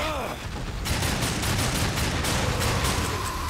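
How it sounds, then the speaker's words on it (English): Point-blank shooting in the video game Darksiders 2: dense, rapid gunfire bursts layered into a loud, continuous barrage of repeated shots. "Point blank shooting."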